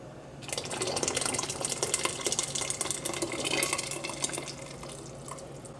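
Corn chowder purée poured from a container back into a cooking pot, a steady liquid splashing and pouring stream lasting several seconds, close and fairly quiet.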